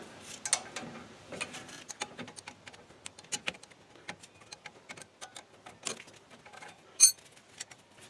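A 17mm wrench turns out a Loctite-treated brake caliper bolt on a Mitsubishi Raider's front brakes, giving faint, irregular metallic ticks and clicks with one sharper clink near the end.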